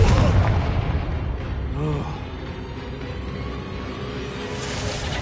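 Spell explosions from Confringo fire bursts in Hogwarts Legacy on PS5, a loud booming blast at the start fading into rumbling crackle, with a brief voice cast over the noise.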